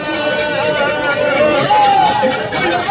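A dense crowd at the Otur Kapardikeshwar temple fair on a Shravan Monday fills the air with continuous chatter and hubbub, loud and close all around, while someone speaks over it.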